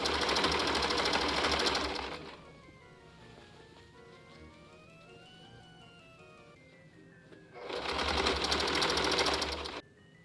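Sewing machine stitching a cosplay skirt, with two loud buzzing runs of rapid stitching at the start and end separated by a quieter pause.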